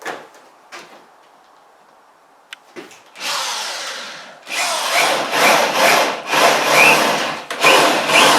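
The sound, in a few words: sawing out window opening in shed wall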